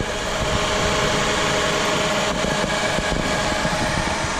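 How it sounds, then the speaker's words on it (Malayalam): A motor pumps water for a farm in Kuwait's Wafra area, running as a steady, loud, continuous drone with a broad hum and no talking. "ഈ ഫാമിലേക്കൊക്കെ ഉള്ള വെള്ളം ഈ ഒരു മോട്ടോർ വെച്ചിട്ടാണ് പമ്പ് ചെയ്യുന്നത്"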